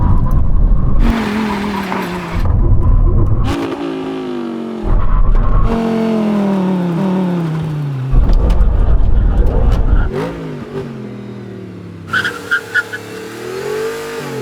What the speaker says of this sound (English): brake test, 100 miles an hour. When we reach the cones, full emergency stop.